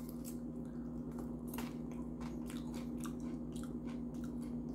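Someone chewing spicy Doritos tortilla chips up close, soft crunches and moist bites repeating steadily over a constant low background hum.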